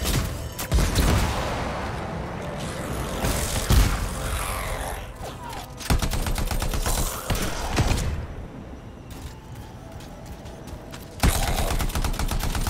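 Rapid bursts of gunfire from the video game Anthem, loud and sustained with repeated volleys and sharp breaks, mixed with mechanical clatter throughout.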